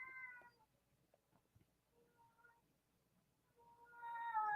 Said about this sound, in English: can you believe this cat?